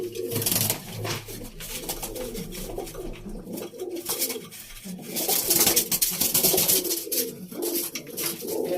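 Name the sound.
pigeons cooing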